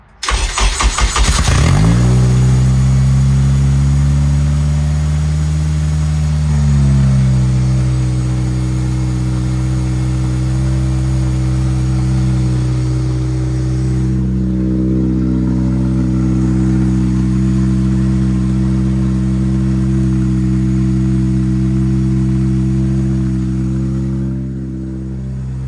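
A mid-engine, rear-wheel-drive Honda Civic with a swapped K20 engine and a new fuel pump cranks and fires up loudly, revs once, then settles into a steady, close idle with a slight lift near the end.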